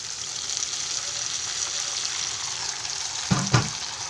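Spiced masala sizzles softly in a pan for a bashpata fish curry; near the end, a small splash of water hits the hot pan, setting off a sharp, brief double burst of louder hissing.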